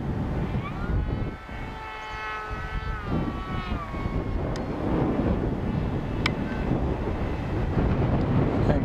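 Strong turbulent wind buffets the microphone of a flying AtomRC Dolphin Pro RC plane, a steady loud roar with the motor's whine rising and falling, continuous throughout.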